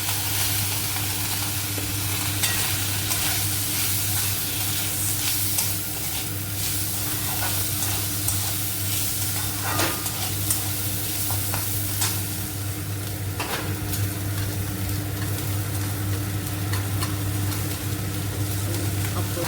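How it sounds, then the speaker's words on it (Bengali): Rice frying and being stirred in a pan with cumin paste: a loud, continuous close-up sizzle and hiss with scraping stirs and a low steady hum beneath. "8 থেকে 10 মিনিট একটু আমি একটু ভেজে দেবো।"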